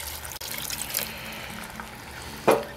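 Hot beef stock and red wine pour into a Dutch oven over beef ribs, a steady liquid splashing stream ending with a brief louder splash.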